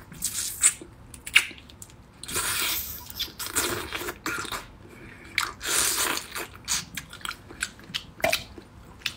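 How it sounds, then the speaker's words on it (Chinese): Raw marinated shrimp being peeled and eaten up close, with wet squishes, crunchy bites and sticky chewing in irregular bursts, fairly quiet with soft pauses between. "来个生呛大虾，给它倒出来， 直接就可以脱壳了，后面是开背的。"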